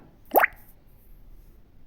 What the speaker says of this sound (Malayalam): ഇനി നമുക്കൊരു പാൻ സ്റ്റൗവിൽ വെച്ചിട്ട് ഒരല്പം വെളിച്ചെണ്ണ ഒഴിക്കാം